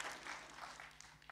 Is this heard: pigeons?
no